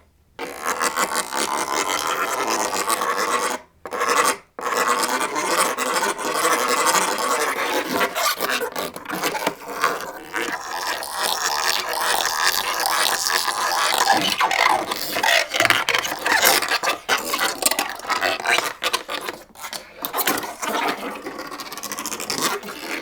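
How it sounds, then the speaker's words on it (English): Tom Nunn scrapes the inverse combs of a skatchbox, a cardboard box instrument, producing continuous raspy rubbing and scraping textures with brief pauses, close and fairly loud, no voices. "Then there's the inverse combs, which make backward sounds"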